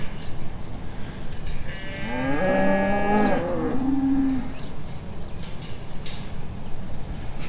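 Cattle in a paddock with newborn calves: one drawn-out, loud moo swells near the middle, followed by a shorter lower low, over outdoor background noise with faint bird calls and no talking.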